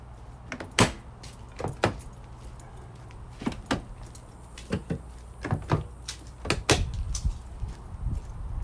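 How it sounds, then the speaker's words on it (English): Car doors in a street parking lot are shut one after another with sharp thumps and clunky latch and lock sounds, a dozen or so close knocks scattered over several seconds with faint keys jangling. "Be sure these fucking doors are locked."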